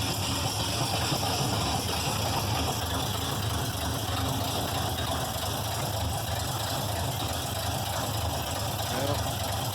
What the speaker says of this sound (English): It's got a pretty low idle, but we'll turn on the headlights and the wipers.